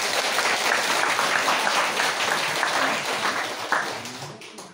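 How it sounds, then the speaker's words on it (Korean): Soldiers and an audience at a Buddhist dharma service in a military temple break into dense, sustained applause, many hands clapping together at close range before it fades at the end. "우리 병사들은 사실 별로 박수 치고 싶지 않은데 우리 보살님들이 박수를 치니까 할 수 없이 박수를 쳐주셨습니다"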